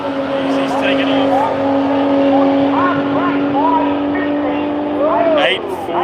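A drag racing car launches off the line at a street machine drag challenge, a steady droning engine note with a louder burst near the end, while people talk over it.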